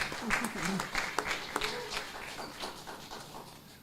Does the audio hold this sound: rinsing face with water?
no